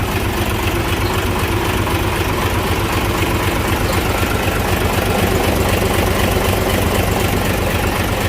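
A 360 hp Isuzu 6WA1 truck engine idles with a loud, steady diesel rumble and a faint knock. The sound is dense and constant throughout, with nobody talking.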